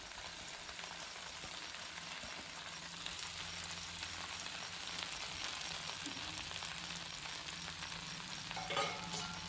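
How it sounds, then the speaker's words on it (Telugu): Gongura leaves frying in oil in a kadai give a steady, broad sizzle that holds at an even level throughout, with soft stirring scrapes now and then and no talking. "ముందుగా ఆరబెట్టి గోంగూరను ఆయిల్లో వేసుకొని కాసేపు మగ్గనివ్వాలి"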